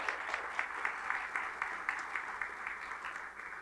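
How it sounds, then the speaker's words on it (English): Steady applause from a crowd, a dense patter of many hands clapping at moderate distance that holds throughout before easing slightly at the end. "if we could give them a round of applause"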